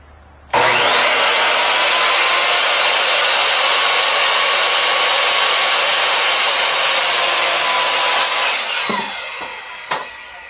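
A power saw cuts lumber into measured pieces for a homemade chin-up bar, a loud, steady high-pitched whine running for about eight seconds before winding down with a few clatters.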